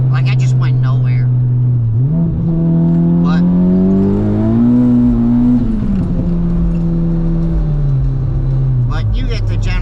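Honda Civic Type R FK8 with a G3900 turbo, 101 housing and full exhaust, droning loudly on the road as revs climb and fall in a smooth sweep, close and continuous, with talk over it.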